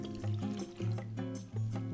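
Water pouring and gurgling into a saucepan of glutinous rice flour and dashi powder in short surges, close and fairly soft, with a bubbling hollow tone.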